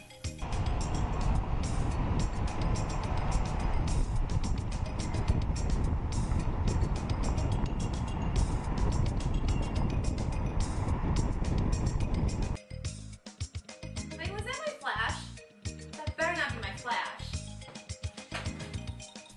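Steady road and wind rumble comes from a car driving at 25 to 30 mph with a GoPro camera mounted outside. It is loud and continuous, then cuts to a quieter, choppier stretch of buffeting near the end.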